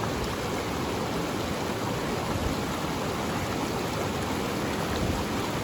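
Continuous rushing of Tyndall Creek at a trail crossing, a cold, moderate flow, steady and fairly loud, with an even hiss and no pauses or voices.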